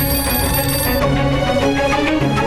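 A telephone rings with steady, sustained electronic tones, loud and close, ringing continuously without any voices.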